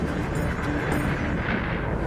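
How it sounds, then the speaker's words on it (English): A Strombolian volcanic eruption on Fogo Island in Cape Verde gives a loud, continuous, broadband roar with heavy low rumble, wind-buffeted and unbroken for about two seconds. "This is what's called a Strombolian eruption, named after the active Stromboli volcano in Italy."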